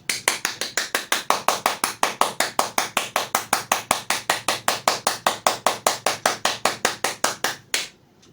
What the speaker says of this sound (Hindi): उस बीच में ताली बजाना है